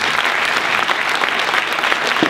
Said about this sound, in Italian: vorrei ringraziarlo con un vostro applauso